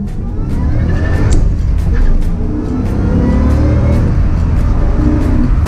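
A 2008 Ford Mustang Shelby GT500, 500 horsepower, accelerating hard with a loud, steady engine roar heard from inside the cabin, road and wind noise mixed in.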